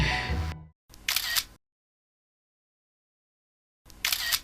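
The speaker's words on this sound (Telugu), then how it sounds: "ఇలా ఒక ఫోటో దిగుతాం." Two crisp camera shutter clicks, each a short sharp burst, separated by a long silent gap and following a brief moment of other sound at the start.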